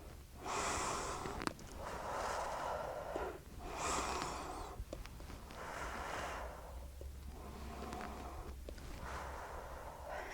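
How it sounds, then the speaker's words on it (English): Several slow, deep breaths taken close up, long inhales and exhales in a steady rhythm against a quiet background. "you're going to take 3 more big deep breaths"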